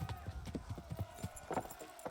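Horse galloping in Kingdom Come: Deliverance, a close, rhythmic run of hoofbeats thudding at an even pace for a couple of seconds, fairly prominent with faint game ambience behind.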